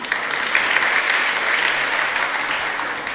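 Congregation at a worship service breaks into steady, dense applause, loud and close, a continuous wash of many hands clapping with no talk over it.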